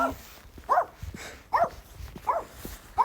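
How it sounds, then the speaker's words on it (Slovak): A dog barks in short single woofs, about four evenly spaced barks, fairly close and clear with little else around. "To má niekto asi nového psa, lebo ten havo tu nebýval."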